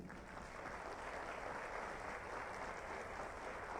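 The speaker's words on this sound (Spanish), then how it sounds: "Vaya ese aplauso" An audience at a university homage ceremony and book presentation gives a dense, even wash of applause that sounds faint and distant and continues without a break.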